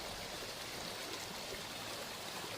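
A mountain stream rushes in a steady, dense broadband wash, continuous and even with no voices, faint but unbroken throughout.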